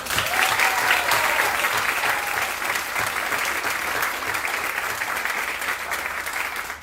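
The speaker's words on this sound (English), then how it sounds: "Now we can give them a round of applause." A theatre audience applauds student art award winners at a ceremony, a steady, dense wash of clapping that holds loud throughout with a faint whistle early on.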